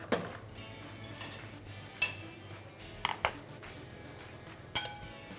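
A spoon clinks against a bowl while mixing beef tartare with whisked mixture, giving several sharp, scattered taps and scrapes close by over a quiet background.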